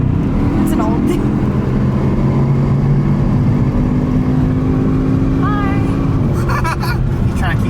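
A car accelerates at full throttle with a loud, sustained engine roar and rising pitch, blended with heavy wind rush. Voices are heard over it.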